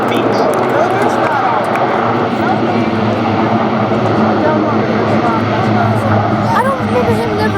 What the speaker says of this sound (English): give a round of applause to the KC-130 Juliet as he demonstrates a short field landing